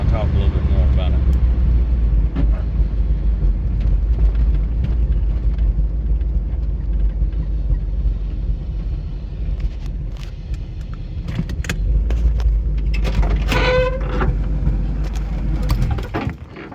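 A 1978 Pontiac Trans Am driving, its engine rumbling steadily at low pitch while the car slows to pull over, with someone talking over the running car throughout.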